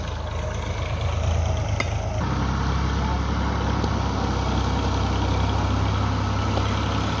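A Massey Ferguson 240 tractor engine idles steadily with a low, continuous rumble throughout, close by and fairly loud.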